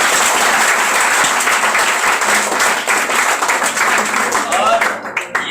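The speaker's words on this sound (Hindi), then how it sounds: "तालियां।" A crowd at a gathering honoring a government school student bursts into loud, sustained clapping, dense and even for several seconds before thinning out near the end.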